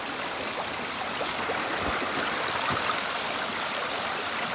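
A creek by a rural property flows steadily year round, giving a continuous close rush and trickle of water with no talking over it.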